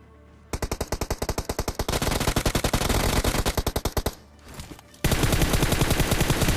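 Rapid automatic gunfire in the BGMI mobile battle game as two enemies are knocked down, loud bursts of closely spaced shots, a brief pause with a softer sound, then a dense continuous volley.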